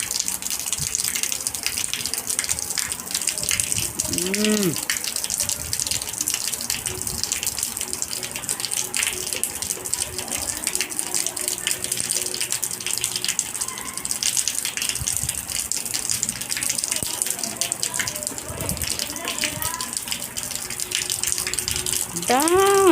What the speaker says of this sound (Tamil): எங்கள் ஊரில் மழை பெஞ்சிட்டு இருக்கு